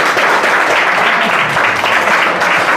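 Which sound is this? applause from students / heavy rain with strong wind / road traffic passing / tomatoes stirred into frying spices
applause from students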